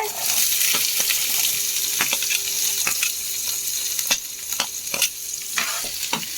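Onions frying in oil with curry leaves and chillies for bread masala, a loud constant sizzle broken by regular scraping strokes of a spatula, close, with no talk.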